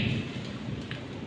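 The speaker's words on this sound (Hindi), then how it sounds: "जोर से बारिश कर रहा है, देख सकते हैं आप लोग बिजली कड़क रहे उधर" Steady, dense rainfall hisses throughout, with a low rumble of distant thunder; no voices.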